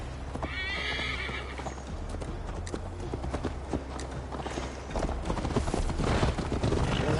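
Horses in a video game gallop after riders mount up, their clip-clop hoofbeats steady and close with a neigh or whinny near the start, over a low rumbling backdrop.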